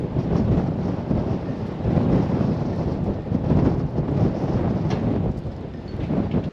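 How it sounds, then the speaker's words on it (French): Strong dusty wind in Cappadocia, Turkey, buffets and roars continuously, gusting heavily against the microphone with no voices. "Le vent ne s'arrête pas."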